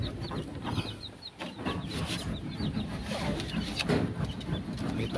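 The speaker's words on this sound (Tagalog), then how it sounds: "Yung mga itik" Ducks on a farm in the Philippine countryside give repeated soft quacks and clucking calls at moderate distance, scattered in short bursts against outdoor background noise.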